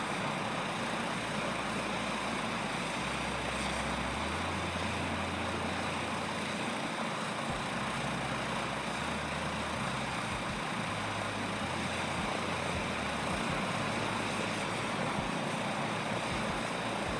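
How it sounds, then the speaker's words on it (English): Airbus H225 helicopter in Microsoft Flight Simulator 2024 over the Bavarian Alps gives a steady, dense turbine and rotor roar with a low rumble underneath, continuous and even throughout with no talk. "This helicopter flies real nice."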